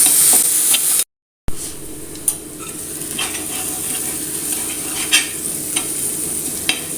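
Tomatoes sauté in a pan for Kerala tuna curry, giving a close, steady sizzle. A few sharp spoon clinks and scrapes come against the pan, and there is a brief total dropout near the start.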